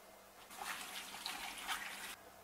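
Water runs steadily from a tap for about two seconds, a soft broadband rush with some splashing as vegetables are rinsed beneath it.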